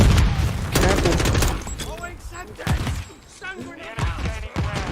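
Grenade blast and bursts of gunfire in Modern Warfare 2 multiplayer gameplay, loud thumping explosions and rattling shots packed close together, with excited voices talking over the action.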